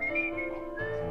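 A person whistles a short, wavering tune, clear and close, with a brief pitch slide near the end and no talking.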